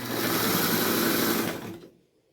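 A vintage International Super Deluxe sewing machine stitches in a steady, close, whirring hum that carries evenly, then winds down and stops, leaving silence.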